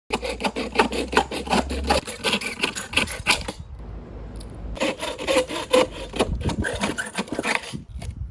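A hand saw rasps back and forth through bamboo in steady, rapid strokes, pausing briefly midway before resuming the same close, scratchy sawing rhythm.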